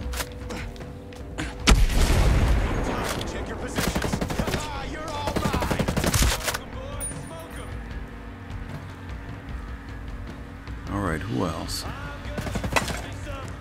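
Rapid gunfire rattles through a firefight in the video game Ghost Recon Breakpoint. Dense bursts crowd the first six seconds, then thinner shots and game sounds carry on while a voice talks intermittently.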